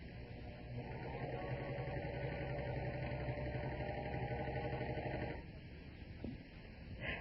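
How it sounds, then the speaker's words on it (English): A 4-3-2 thread serger sewing machine cutting and stitching fabric: a steady, close mechanical whirring drone that runs for about five seconds, then cuts off and leaves a quieter hum with a faint knock. "Simply guide the fabric toward the blades rather than the needle. Remember that cutting takes place before the fabric reaches the needle."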